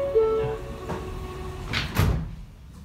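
Doors on an R160 F subway train close, a short mechanical thud and slide with a brief chime-like tone at the start, heard inside the car amid rumbling train noise.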